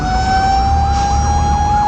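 Wailing fire truck and ambulance sirens sound loud and steady at a large building fire at a hardware depot, their rising and falling tones layered over a continuous low engine rumble, with no voices.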